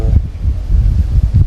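Wind buffets a microphone outdoors beside a Volkswagen, a steady low rumbling roar with gusty swells throughout, loud and close.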